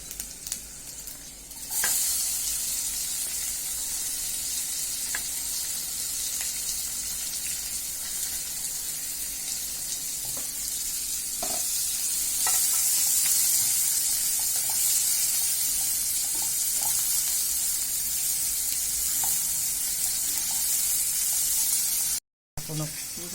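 Cumin seeds and chopped onion frying in a pan for poha, a steady loud sizzle with occasional stirring scrapes throughout.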